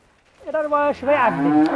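A cow or calf at a cattle market lets out one long, loud moo that dips and rises in pitch, heard close and alone with no talk.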